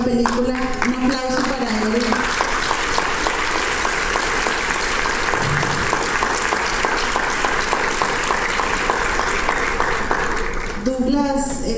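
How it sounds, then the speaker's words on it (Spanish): A film forum audience applauds steadily and loudly for several seconds, with a voice speaking briefly before and after the clapping. "Un aplauso para él"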